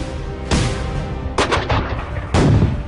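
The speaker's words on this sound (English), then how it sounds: "their batteries opened," Artillery batteries fire at the siege of Yorktown, three heavy booming reports roughly a second apart, each a sharp broadband blast with a rumbling tail, set against a continuous low background din with no voices.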